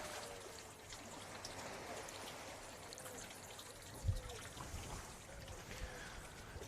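Jets of water pour from holes in a container in a pressure-and-depth experiment, a faint, steady trickling and splashing stream with a soft thud partway through, heard quietly at a distance.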